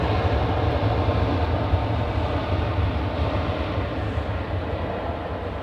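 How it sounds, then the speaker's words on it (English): A 21-year-old Qantas airliner, flight 891 to Perth, departs Adelaide Airport with a loud, steady low jet roar that slowly eases over several seconds, no talking. "So this is Qantas 891 heading back to Perth"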